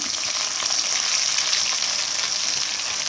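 Thai curry paste stir-fries with pork in a pan, an even, loud sizzling hiss with soft stirring scrapes throughout, close up and without any talking.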